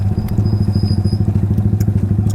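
A Yamaha R15 motorcycle fitted with a loud Akrapovic exhaust, idling close up with a fast, even, throbbing pulse and crackly exhaust beats, loud and steady throughout.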